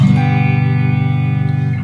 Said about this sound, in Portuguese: Ao qual vou adicionar um bocado de reverb